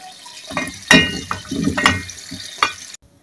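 Raw mango pieces are stirred into hot oil with spices for an instant pickle, producing short bursts of sizzling and spoon scrapes against the pan, close and fairly loud, ending abruptly.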